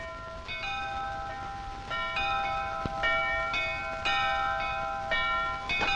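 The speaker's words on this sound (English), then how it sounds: "Bells!" Bells ring in a clear sequence of bright, sustained strikes, each tone overlapping the decay of the last, a steady peal heard alone without voices.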